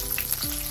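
Curry leaves crisping in hot oil as a garnish for a spicy chicken liver fry, giving a steady close sizzle and crackle throughout, with no voices.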